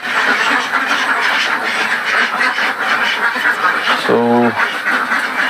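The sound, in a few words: ducks quacking on a Philippine duck farm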